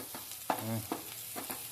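Onions wilting in hot oil with a Maggi stock cube added: a few quick stirring scrapes over a low sizzle, close and fairly quiet, with no voices.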